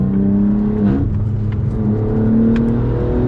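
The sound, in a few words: BMW M4 G82 accelerating hard on Nürburgring lap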